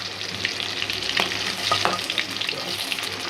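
Pangas fish fillets coated in masala frying crisp in hot oil, a loud continuous sizzle with crackling pops and occasional stirring, no voices over it.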